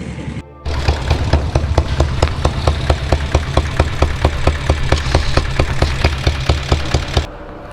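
Diesel Royal Enfield Bullet motorcycle idling close by, a loud, steady low thumping with evenly spaced beats, starting up just after a brief quieter moment and cutting off near the end.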